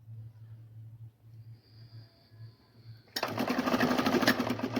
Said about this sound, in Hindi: मशीन में रख करके इस पे ऊपर से गोलाई में सिलाई लगा